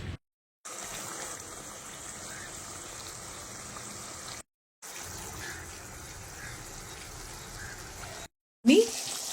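Water pours into a pan of katla fish kalia curry in a steady, rushing gush, interrupted by two abrupt silent breaks before a brief louder sound at the end.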